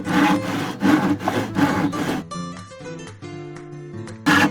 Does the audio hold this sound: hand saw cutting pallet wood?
yes